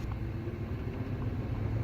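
A 1970 Buick Skylark cruising at speed during a high-speed road test, a steady low engine and road rumble running evenly throughout, with no voices.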